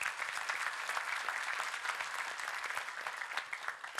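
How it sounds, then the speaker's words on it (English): Audience applause at a leadership forum in Nairobi, a steady dense wash of many hands clapping throughout, fairly even in loudness with no voices over it. "A round of applause for yourselves."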